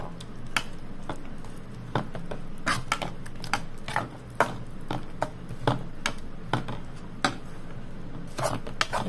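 A spoon scrapes and clicks against a bowl while oats dough is stirred and mixed with chopped vegetables, irregular sharp taps over soft background noise, close and without talk.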